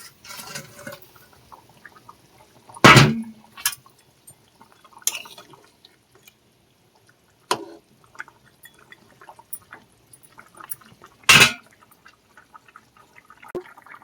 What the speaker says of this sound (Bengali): বন্ধুরা, মাছের ঝাল ফুটে গেছে, মাছগুলো এবার দিয়ে দেবো।